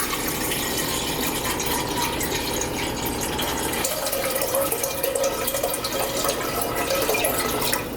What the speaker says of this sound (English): make sure you fill your Brita with more water after you're done with it